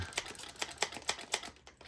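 A hand spray bottle spritzes onto glued model railroad benchwork, a rapid series of short, crisp hissing bursts, about eight, close and fairly quiet with no talk.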